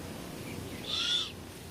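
A great horned owl gives one short, soft hoot, moderately distant over a steady outdoor background hiss, with no voices.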